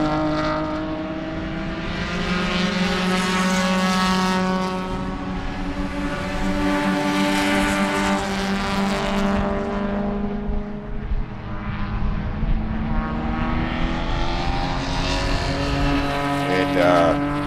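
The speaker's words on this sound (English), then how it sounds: "we are just getting some really close, great racing here." Race cars at a Sebring SCCA Cabin Fever Cure event roar past, engines rising and falling in pitch as several cars pass nearby one after another, with a commentator's voice faint beneath.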